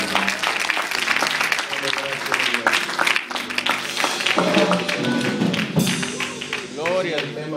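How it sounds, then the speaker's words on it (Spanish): Applause and tapping from a church congregation mix with lively voices and musical tones, forming a busy, loud texture throughout. "Denle fuerte ese aplauso."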